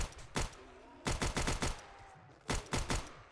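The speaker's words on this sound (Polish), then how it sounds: "Jakie to jest głośne. Cała gra jest taka cichutka, wszystko spoko, fajnie. A te strzały." Loud bursts of gunfire from the video game 7 Days to Die in rapid groups of three or four shots, separated by short pauses, with a faint tonal background between volleys.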